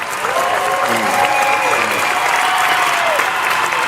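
An audience claps in a church-style gathering, giving loud, dense, continuous applause that fills the whole stretch, with some crowd voices and cheering mixed in.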